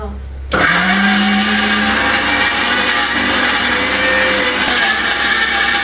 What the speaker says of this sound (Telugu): ఇప్పుడు దీన్ని మిక్సీ పట్టేస్తా స్టార్ట్